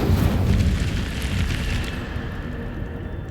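A close, loud blast from the Incendio fire spell in Hogwarts Legacy bursts out at once, then fades into a rumbling, crackling roar that slowly quiets.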